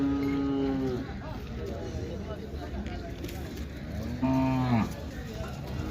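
A Khillar cow at a cattle market gives two loud, drawn-out moos, one at the start and another near the end, over a steady crowd and market din.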